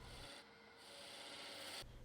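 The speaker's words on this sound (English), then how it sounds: "Then I do a little bit of shear scraping." A wood-turning piece being shear scraped on a lathe gives a steady, close rasping scrape with a faint high whine. It runs throughout, loudest in two bursts at the start and end.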